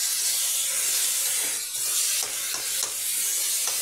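Ground tomato and green chilli added to onion and yellow pumpkin in a hot pan, giving a loud, continuous steamy hiss and sizzle with a few soft stirring scrapes, close up and alone.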